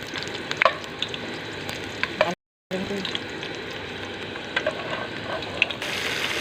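Food sizzles steadily in a pan with occasional light clinks and stirring, after a brief total dropout partway through.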